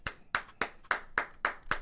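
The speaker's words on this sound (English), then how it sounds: "Round of applause." Applause for Kerrigan during a StarLadder Budapest Major 2025 Counter-Strike match, heard as seven sharp, evenly spaced claps about a quarter second apart, close and alone.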